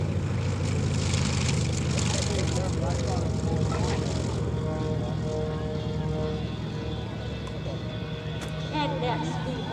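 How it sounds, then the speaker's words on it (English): A warbird airplane lands at the EAA AirVenture airshow, its propeller engine droning steadily and fairly loud throughout, fading slightly near the end, while an announcer talks over the PA. "We have landing now Dr. James Kelly from Fort Smith, Arkansas."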